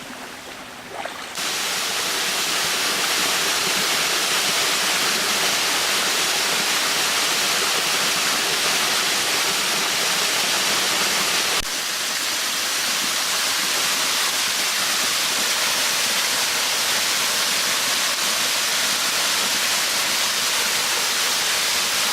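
A waterfall near San Jose del Guaviare, Colombia roars steadily at close range, a dense broadband rush of falling water that holds constant for the whole stretch with no voices over it.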